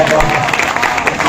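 Audience applause at a Hindi hasya kavi sammelan comedy poetry show in Chhatarpur, Madhya Pradesh: a dense, steady wash of clapping from a large crowd, sustained and fairly loud throughout, with voices mixed in.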